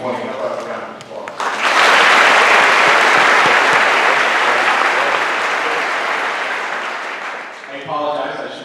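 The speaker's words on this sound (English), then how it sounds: "How about a round of applause?" Loud, sustained audience applause filling a school promotion ceremony, swelling after a brief pause and holding steady for several seconds before tapering, with voices audible at the start and end.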